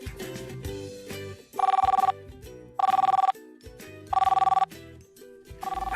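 An old-style telephone ringing in repeated electronic bursts, three loud rings with short gaps and a fourth starting, heard over a soft background music bed.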